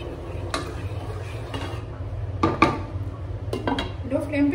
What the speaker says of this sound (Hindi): 1 कप वाटर ऐड किया है मैंने और इसे आप मिक्स करेंगे